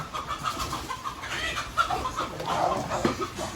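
Chickens clucking and chattering in a busy, continuous stream, with scattered bird calls layered over a steady outdoor background.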